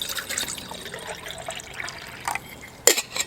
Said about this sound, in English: I'll pour some water into my Stanley bottle.